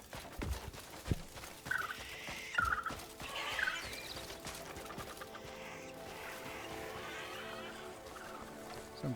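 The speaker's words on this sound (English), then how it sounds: "Some crazy noises coming from those birds." Birds call in the Crimson Desert video game, with odd clucking and gobbling cries rising over a steady ambient bed, a few low thumps early on.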